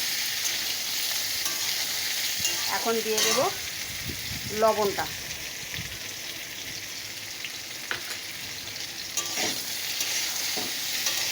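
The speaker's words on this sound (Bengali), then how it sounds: "বেগুনটা দিয়েও নাড়াচাড়া করে একটু ভেজে নেব" Vegetables and brinjal stir-fry in a pan with a constant close hiss, with intermittent spatula scrapes and clacks against the pan while someone speaks briefly over the sizzling.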